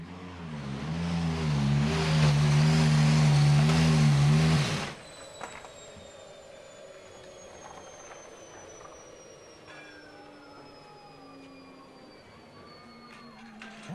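A 2014 Ferrari Formula 1 car enters the pits at Jerez testing, its turbo and energy-recovery systems winding down: a loud, dense engine roar for several seconds cuts abruptly to a fading whine and softer mechanical hum.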